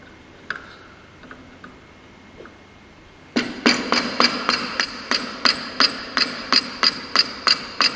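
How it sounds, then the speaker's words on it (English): A mallet strikes a chisel to cut waste wood out of a dovetail joint. Silence gives way to a steady run of about a dozen sharp, evenly spaced raps, close and loud. "he placed the chisel and removed the unwanted piece material"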